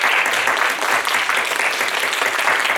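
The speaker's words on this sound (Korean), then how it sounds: "조은비, 조한나 일어나시면 우리 박수로 환영하겠습니다." A church congregation applauds to welcome two visiting guests during a Korean Baptist service, steady dense clapping filling the room throughout with no voices over it.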